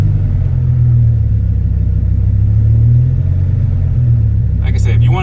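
A Dodge Viper idling with a deep, steady low rumble close by, constant and heavy throughout, with a brief voice breaking in at the very end.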